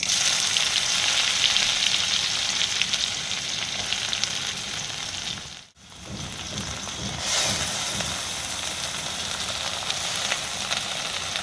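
Onion dropped into hot oil already crackling with mustard seeds and cumin, a loud dense sizzle that briefly cuts out, then surges back stronger as the pieces hit the pan.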